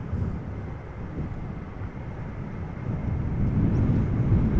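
A Delta Airlines Airbus A330-300 departs Amsterdam Schiphol, a broad low jet roar that holds steady and swells louder toward the end, with wind rumble mixed in and no talking.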